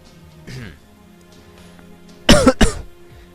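A person with allergies coughs and clears their throat, one short rough cough followed by two sharp, loud close coughs in quick succession, with quiet gaming sounds in the background.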